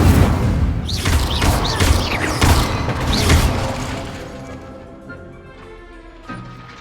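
Incendio fire spell cast in Hogwarts Legacy amid a duel, a series of loud whooshing blasts and thuds that fade into quieter rumbling, with a brief spoken voice near the end.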